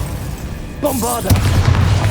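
A Bombarda explosion spell in Hogwarts Legacy erupts as a single loud boom with a rumbling tail, following a short spoken incantation.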